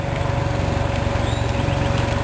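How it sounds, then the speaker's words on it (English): A neighbor's lawn mower drones steadily in the rain, a close, continuous engine hum with a faint regular pulse and no breaks. "while my neighbor's mowing his lawn"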